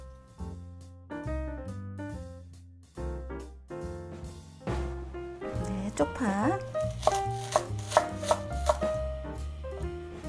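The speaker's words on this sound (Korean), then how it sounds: "이제 고명으로 들어갈 홍고추하고 쪽파를 썰어 보겠습니다" A knife slices red chili and scallions on a board for spring cabbage water kimchi, with quick chopping taps under loud background music.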